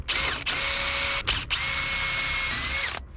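A power drill whines at high speed in two long bursts separated by a brief pause, pre-drilling counterbores for stainless steel screws in wood on a wooden boat, close and loud, with no talking.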